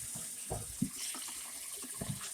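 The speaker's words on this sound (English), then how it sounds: "So this will probably be the third rinse." Running tap water pours steadily over raw shrimp being rinsed in a sink, a close, even hiss with intermittent low splashes and knocks as the shrimp are handled.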